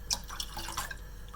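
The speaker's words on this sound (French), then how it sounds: "Je rajoute un peu d'eau pour pas gaspiller." Water poured into a pot while cooking a Vietnamese three-color dessert, a brief close splash and trickle of liquid at low volume.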